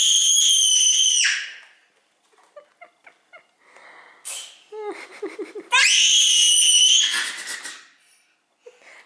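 Child squealing loudly at home while unwrapping New Year gifts, two long piercing shrieks framing a stretch of smaller giggly vocal sounds and brief voices between, close and intense.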